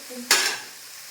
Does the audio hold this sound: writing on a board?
no